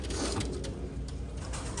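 Soft, low cooing of fancy pigeons running steadily through the clip, blended with a constant murmur of background noise and no voices.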